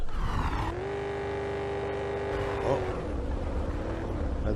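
A car engine in the video game Drive 4 Survival drones steadily at low revs as the vehicle creeps slowly along, its pitch rising and holding before easing off.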